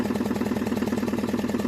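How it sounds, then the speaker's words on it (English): A tractor engine idles nearby with a steady, fast rhythmic chugging, moderately loud and alone with no voices. "That's Violetta's tractor"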